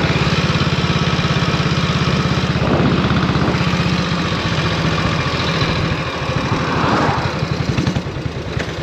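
A 1932 Norton 16H pre-war vintage motorcycle engine runs with a loud, steady thumping pulse close by, rising slightly in the middle and easing toward the end, with no talking.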